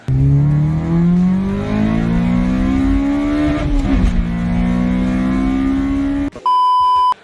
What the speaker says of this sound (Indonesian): kalau dulu lu pernah nginjek engine K-Series, itu bunyi wah